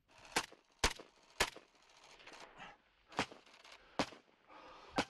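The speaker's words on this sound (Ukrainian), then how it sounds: "Це наш гранатомет." During the battle for Bakhmut, a grenade launcher fires, heard as a series of sharp, distant-sounding bangs at irregular intervals, about seven in a few seconds, over faint background noise.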